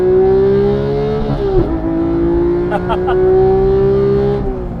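A Porsche 991.2 911 GT3 flat-six gives a quick rev-matching throttle blip, the sustained engine drone dipping and surging briefly mid-clip before settling back to a steady cabin hum; close and loud, no talk.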